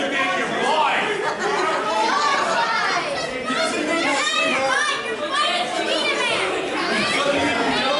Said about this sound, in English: This is an absolutely wild crowd here tonight,